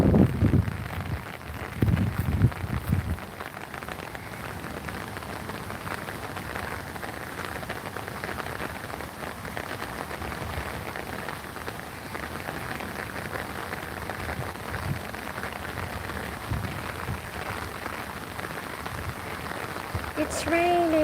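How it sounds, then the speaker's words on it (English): Rain falls steadily outdoors on a street in Korea, making a continuous close hiss and patter. Brief voices break in at the start and the very end. "It's raining."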